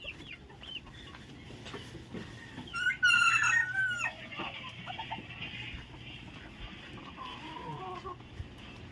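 A chicken gives a short burst of clucking amid steady outdoor background noise near the sea at Bucana, moderately close, then the surroundings settle back to a low ambient hum.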